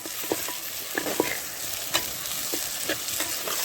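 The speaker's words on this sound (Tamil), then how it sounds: "இதையும் சேர்த்து நல்லா வதக்கிக்கலாம் இந்த தக்காளியை நல்லா வதக்கிக்கணும்" Tomatoes, mint and coriander leaves sauté in a pan for a fenugreek-leaf duck gravy, with a soft steady sizzle and scattered ladle scrapes and stirring taps, and no voices.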